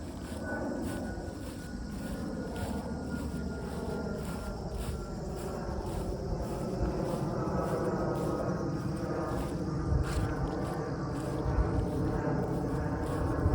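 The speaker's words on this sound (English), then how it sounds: "Man, another plane." A plane drones steadily overhead outdoors near oak trees and seedlings, a broad continuous engine roar that builds slightly louder toward the end, with no one talking.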